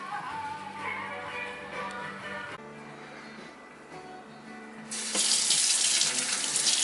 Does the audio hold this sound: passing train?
no